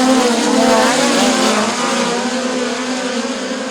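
POWRi National Midget League midget race cars racing at Bubba Raceway Park, one running a Stanton SR11 engine, give a loud, continuous high-pitched engine howl that holds steady throughout without anyone talking.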